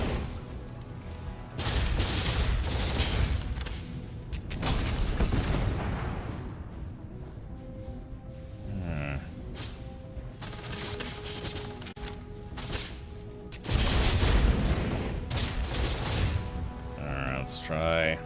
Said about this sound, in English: Let's try the black hole cannon.